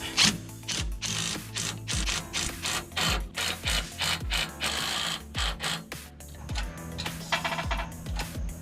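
A hand ratchet tightens bolts on the front engine support bar of a Volkswagen Vanagon with a rebuilt 1.9 WaterBoxer engine, giving rapid metallic clicking in repeated strokes with short pauses between, close and clear, no talking.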